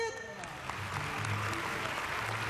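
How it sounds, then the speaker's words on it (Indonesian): Scattered clapping from a small studio audience on a dating game show rises and continues steadily, mixed with background chatter and room noise. "Eh, tepuk tangan."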